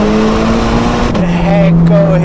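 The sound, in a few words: 2022 Ferrari Portofino M driven on circuit in manual mode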